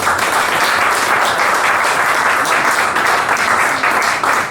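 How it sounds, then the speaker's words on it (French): An audience claps loudly and continuously at a singing contest final, a dense, even wash of applause with no break from start to finish. "Je vous demande d'applaudir, mesdames, messieurs"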